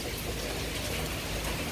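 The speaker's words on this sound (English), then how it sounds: "Heavy rain and wind, guys." Heavy rain pours down during Tropical Storm Eta in Florida, a dense, unbroken hiss of rain and wind heard close and steady throughout.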